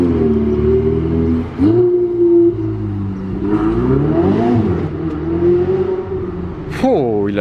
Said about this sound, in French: il a lâché un downshift et il a mis un pied plancher